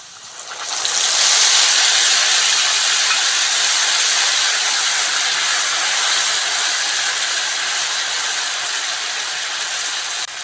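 Spice paste hitting hot oil with already fried potatoes for a chhana dalna, bursting into a loud, sustained hiss that sets in after a second and holds steady, with no voices.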